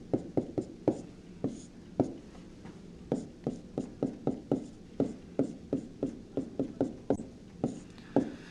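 Chalk or pen writing math on a board or paper, with steady rhythmic tapping strokes and short scratches, close and distinct, broken by a few brief pauses.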